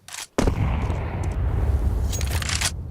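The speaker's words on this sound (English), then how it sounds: "That nade is pretty well placed" Grenade blast in a Counter-Strike 2 match, a sharp, loud boom that cuts in after a brief gunshot crack and then rolls into a long, rumbling low-end tail.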